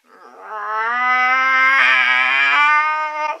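A person imitates a cat's threatening growl-yowl, a sustained rising and wavering caterwaul held for about three seconds, loud and close, alone with no other sounds.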